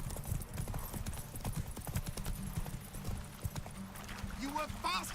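Horse hooves clip-clop in a fast, steady rhythm during a horse race in the video game Witcher 3, with occasional whinnies near the end and game voices speaking over the gallop.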